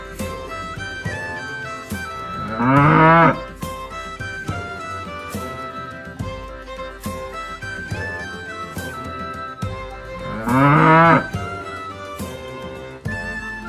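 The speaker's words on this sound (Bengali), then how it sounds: "গরু বাছুর দাঁড়িয়ে আছে" A cow and calf moo twice, at about three and eleven seconds: long, bending low calls rising in pitch over steady, bright children's music.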